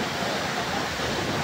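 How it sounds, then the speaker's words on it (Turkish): Roaring rush of the Şarlayan waterfall in Turkey, a dense, continuous broadband wash of falling water, loud and steady with no voices over it. "Muhteşem Şarlayan Şelalesi."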